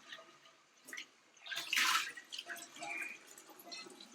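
Water runs and splashes over an iron skillet in a sink, with a louder surge in the middle and intermittent drips and trickles.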